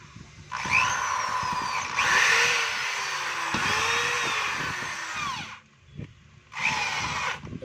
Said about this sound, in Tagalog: Lagay natin sa drill. So okay din po yung drill.